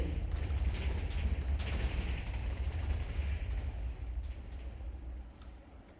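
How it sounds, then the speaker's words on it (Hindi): A heavy, rumbling video-game explosion roars loudly and continuously, then slowly fades away toward the end. "एंड लेट्स सी कि धमाका कितना बड़ा होता है"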